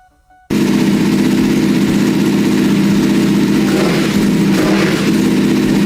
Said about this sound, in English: finally the engine roared to life